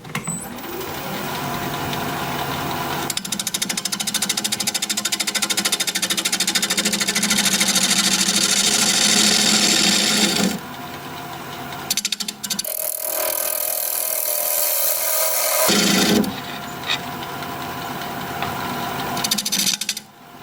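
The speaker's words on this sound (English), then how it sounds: "We're going to be turning at 800 RPM, 5/8 inch bowl gouge, mask and face shield on." A wood lathe spins an olive wood bowl at 800 RPM while a 5/8 inch bowl gouge cuts it, giving a loud, steady grinding roar with abrupt changes in tone and brief drops as the tool leaves and re-enters the wood.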